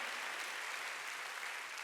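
A crowd claps, with dense applause holding at a steady level for the whole of the short stretch.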